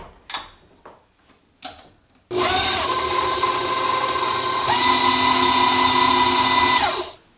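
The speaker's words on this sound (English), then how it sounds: "We're going to go ahead and blend these ingredients together." An electric blender whirs loudly and steadily while mixing grain-free dog treat ingredients including melted coconut oil, starting abruptly after a few light knocks and shifting pitch midway before cutting off.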